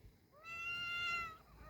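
A cat on the street at night gives one drawn-out, clear meow, close by and fairly strong, rising and then holding steady against faint outdoor background noise.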